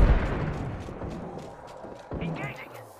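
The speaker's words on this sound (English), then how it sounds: "Grenade, watch out!" A grenade goes off in the shooter game Apex Legends, a muffled low boom with rumbling gunfire-like bursts, heard under a speaking voice.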